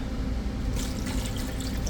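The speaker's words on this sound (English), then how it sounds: "you want to make sure you pour cold water over it" Cold water pours from a tap into a pot of peeled potatoes for mashed potatoes, a steady splashing and trickling stream that runs close and alone for a couple of seconds.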